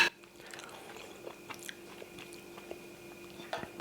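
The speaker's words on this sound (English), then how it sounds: "Vegetables nice and crunchy, how I like it." Close-up crunchy chewing and biting of vegetables, carrot, chicken and rice from a homemade chicken tikka biryani, soft irregular crunches over a quiet background.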